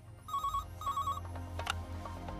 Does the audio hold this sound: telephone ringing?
yes